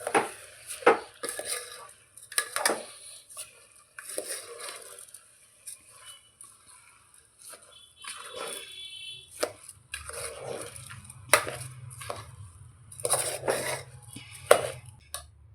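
Intermittent scraping and clinking of a utensil against a pot as egg biryani ingredients are stirred, in irregular bursts with quiet gaps between.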